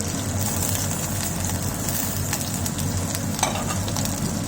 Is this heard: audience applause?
no